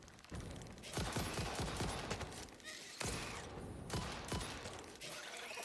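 Sniper gunfire in the Satisfactory video game: rapid, dense bursts of shots crackle continuously at fairly steady loudness, with brief pauses between volleys.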